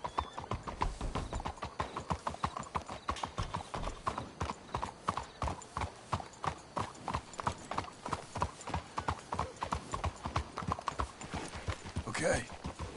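Steady clip-clop of horse hooves from riders in Red Dead Redemption 2, a continuous rhythmic trot running the whole stretch with a brief whinny near the end and faint talk mixed in.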